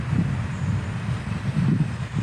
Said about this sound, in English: Oh, it's quite windy.